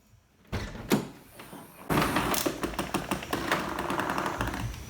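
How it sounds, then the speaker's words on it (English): A DeLorean gull-wing door opens after a gas piston swap: a close mechanical click and clunk, then a rising, rattling rush of movement that continues to the end. "So I'm going to open the door."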